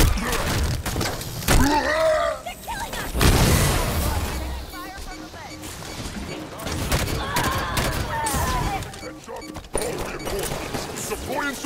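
Rapid gunfire rattles through a Halo 5 battle, bursts and thuds layered with shouting voices and mechanical clatter, dense and loud throughout.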